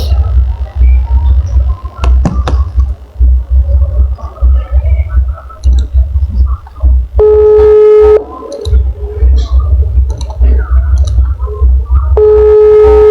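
Two stretches of a phone ringback tone on an outgoing call sound over a steady low hum, each lasting about a second, with faint background noise between them.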